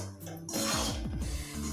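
Rice flour made from sun-dried rice is dry-roasted in a hot kadai for Assamese pitha. Close, rhythmic scraping and clicking of stirring against the metal pan runs through the short moment without speech.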